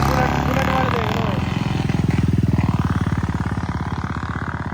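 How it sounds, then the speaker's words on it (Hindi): A KTM Duke 390 motorcycle with an engine ticking fault is ridden nearby, its engine rising to a loud pulsing, throbbing roar while someone talks over it. "ये भाई चला के देख रहा बाइक को।"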